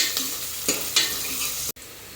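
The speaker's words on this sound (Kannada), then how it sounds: "2 ಈರುಳ್ಳಿ ಹಾಕ್ಕೊಂಡು ಫ್ರೈ ಮಾಡ್ಕೊಬೇಕು" Two onions fry in a pan, a close steady sizzle with a few scraping stir strokes, then a brief cut before the sizzling resumes.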